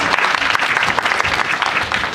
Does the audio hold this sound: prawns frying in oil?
no